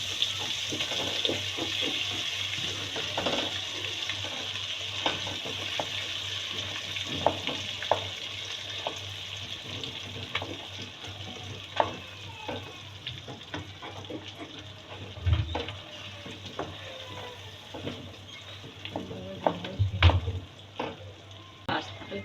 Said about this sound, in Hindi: अब इसको हम थोड़ा थोड़ा डाल के इसमें फ्राई करेंगे, वो सॉरी भुनेंगे।